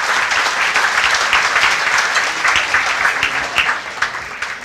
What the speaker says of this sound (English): please give Lissa a round of applause